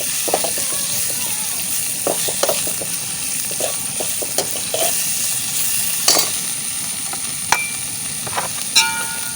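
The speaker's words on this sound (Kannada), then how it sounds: "ಇವಾಗ ಇದೇ ರೀತಿ ಟೊಮೆಟೊವನ್ನು ಕೂಡ ನಾವು ಎಣ್ಣೆಯಲ್ಲಿ ಚೆನ್ನಾಗಿ ಬಾಡಿಸಿಕೊಳ್ಬೇಕು" Chopped tomato frying in oil in a pan for jackfruit seed tokku, a steady low sizzle with scattered crackles and stirring clicks, fairly close and even throughout.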